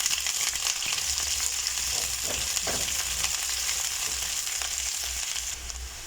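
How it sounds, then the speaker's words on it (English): Onions sauté in a pan for vegan noodles, giving a constant close sizzle and crackle with faint stirring scrapes, and no voices. "we saute these onions until they are translucent"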